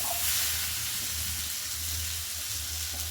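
Water poured into a pan of sizzling spice masala with half-boiled potatoes for a Bengali fish gravy, a steady soft hiss and bubbling with a low hum beneath, faint and continuous, no talk.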